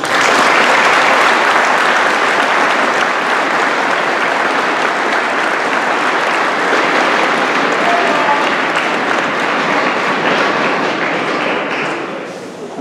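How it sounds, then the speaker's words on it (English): Sustained applause from a crowd at a Conservative Party of Canada nomination meeting, loud and dense clapping that holds steady for several seconds before tapering off at the end. "I think we should applaud them for their efforts."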